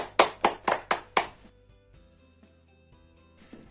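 Five sharp hand claps in a steady rhythm from a primary school classroom, close and loud, followed by quiet room tone with faint rustles and a soft tap near the end.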